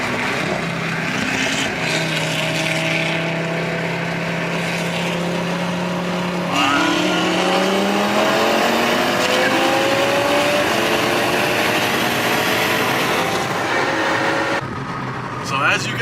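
A Chevrolet Corvette C6 Z06 and a C7 race down a street, their engines roaring loudly with pitch climbing through hard acceleration, then easing off near the end.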